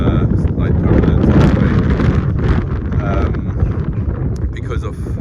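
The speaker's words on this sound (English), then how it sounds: "As you can see, it's windy" Wind buffets the microphone with a loud, continuous low rumble throughout, on a gusty day before a flight revalidation check, with faint voice-like sounds mixed in.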